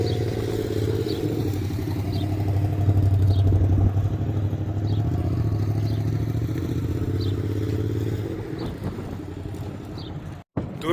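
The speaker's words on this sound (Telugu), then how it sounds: "అది మోటార್ సైకిల్ సౌండ్లే" Motorcycle engines pass along a road, a steady low rumbling drone that swells loudest around a few seconds in and thins out toward the end, with faint clatter over the top.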